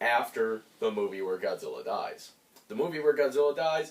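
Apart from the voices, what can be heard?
No everyday noises stand out.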